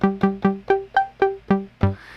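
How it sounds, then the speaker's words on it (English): A Korg Monologue synth triggered by MIDI from an Ableton Push plays eight evenly spaced, punchy plucked notes with quick decay, loud and clean, the last note ringing into a brief tail. "Now what you're hearing is the MIDI from the push triggering the monologue"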